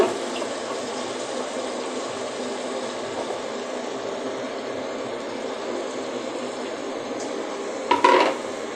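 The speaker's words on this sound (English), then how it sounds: "I'll mix my rice with the carrot and onion." Cooked rice is mixed with carrot and onion in a pot, giving a steady, soft scraping and shuffling texture, ending in a brief louder metallic clink near the end.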